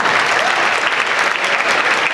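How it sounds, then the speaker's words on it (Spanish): Loud, dense applause fills the hall at a Honduran didactic music concert, a crowd clapping for the teachers involved, continuous and close without any break. "también un aplauso para ellos."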